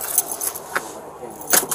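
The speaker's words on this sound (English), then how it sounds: "Can we set your keys down over here for me, please?" Car keys are set down at a police traffic stop and give a few brief, light metallic jingles and clinks close by against a quiet background.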